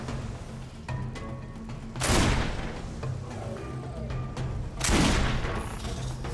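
Two loud blasts of a shotgun firing buckshot in the video game Risen 2, sharp booming shots a few seconds apart over quiet game ambience.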